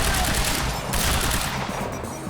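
Gunfire in a firefight in the video game Quantum Break, heard as a dense, continuous wash of rapid shots with no clear gaps between bursts, loud throughout.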